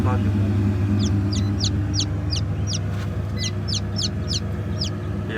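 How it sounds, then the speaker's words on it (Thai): Baby turkey chicks give a series of high, thin peeping calls, about a dozen quick chirps spread over a few seconds, heard over a steady low background hum. "อันนี้คือลูกไก่งวงครับ"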